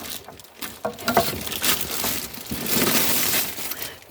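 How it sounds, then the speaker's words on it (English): Heavy torrential rain falling outside, a dense, steady patter and rush with irregular louder splashes and knocks, close and continuous with no voices. "And I apologise if you can hear the rain outside"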